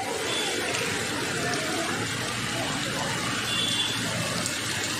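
An open street drain overflowing with monsoon rainwater, a loud continuous rushing gush of water flooding the road, with someone talking over it.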